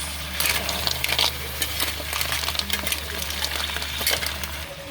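Mussels are stirred in a cooking pot, shells clattering and scraping in quick irregular bursts over a wet sizzle, with a steady low hum beneath, close and fairly quiet.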